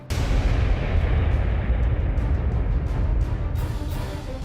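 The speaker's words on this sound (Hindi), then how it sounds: "जोर का धमाका।" A loud explosion in news footage of a US military strike on a Taliban hillside hideout, a heavy booming blast that hits at once and rumbles on as dense sustained roar before slowly easing.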